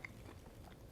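A single soft, close crunch comes from biting into Louisiana corn maque choux, followed by quiet chewing over a faint background.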